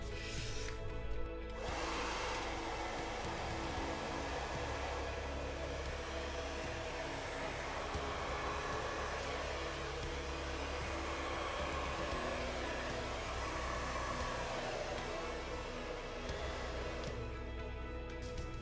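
A hair dryer blows steadily on poured acrylic paint for a Dutch pour, a loud continuous close whoosh that cuts in briefly near the start and stops near the end.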